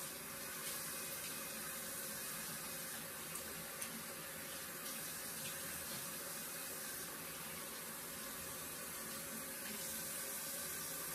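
Warm tap water runs steadily from a faucet into a sink while a charcoal face mask is rinsed off, a continuous even splashing and hiss that stays constant throughout.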